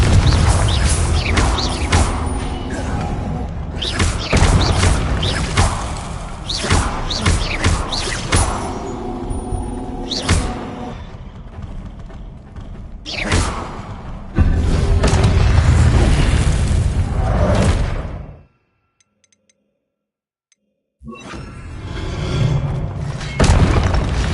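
Explosions from the Confringo blasting spell in Hogwarts Legacy on PlayStation 5: loud booming blasts and thuds in a dense, continuous stretch of game sound, broken by a brief silence near the end.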